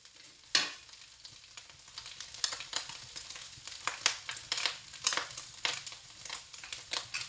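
Meat frying in oil in a pan, a steady close sizzle with crackling pops and stirring scrapes throughout, with no one talking.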